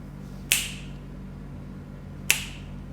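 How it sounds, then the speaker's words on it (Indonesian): Two crisp finger snaps land well apart in a quiet room, each a sharp, bright click that decays quickly into a faint steady hum, used as a trigger for a clap-based light switching system. "Selanjutnya untuk varian yang ketiga adalah jentikan jari."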